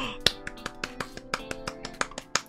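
A clapping sound effect plays over a Ghost of Tsushima game stream as a quick series of about a dozen sharp, evenly spaced claps against a faint tonal background.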